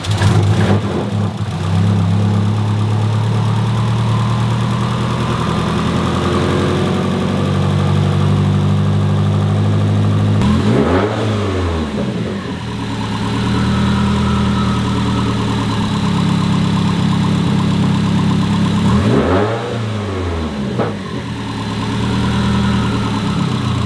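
An STI-swapped Subaru WRX engine idling, a steady, loud, close rumble with a few brief revs rising and falling, heard alone without talk.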